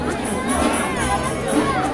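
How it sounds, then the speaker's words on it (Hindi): A dense crowd of pilgrims from a Braj 84 Kos yatra group fills Bhandirvan temple in Vrindavan, with a steady, loud wash of overlapping voices and chatter and occasional shouts. "आप देख सकते हैं कितनी भीड़ है यहाँ"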